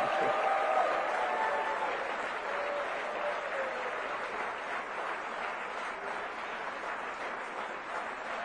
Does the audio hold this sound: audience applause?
yes